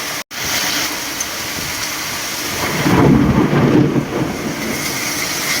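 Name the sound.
storm with thunder, wind and heavy rain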